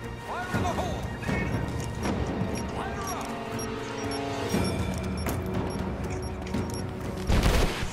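Bombs are thrown and explode in a video game, with bursts of crashing impacts scattered across the clip over busy game noise and a closing heavy blast.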